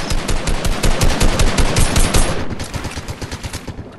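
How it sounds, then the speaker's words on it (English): Combat rifle in a video game firing a sustained rapid burst, loud and close, shots evenly spaced in a fast rhythm that tapers off toward the end. "Oh, the combat rifle is ridiculous."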